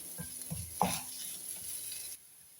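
Cooked lentils and spices sizzle in a pan while a spoon stirs them in a home kitchen, with a few distinct scraping strokes over a soft, steady fry that drops off abruptly near the end.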